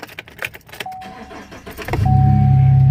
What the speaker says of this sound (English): turn on your truck